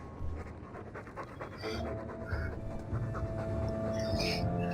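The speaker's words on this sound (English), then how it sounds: "All that noisy dog breath, day in, day out." Rapid, rhythmic dog panting from a companion in the Dragon Age 2 video game, close and steady throughout with no speech.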